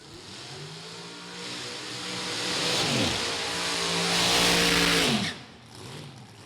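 A Top Dragster drag racing car launches at an NHRA drag race, its engine building into a loud rising roar over several seconds before cutting off abruptly.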